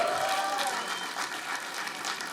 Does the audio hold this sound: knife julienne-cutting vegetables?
no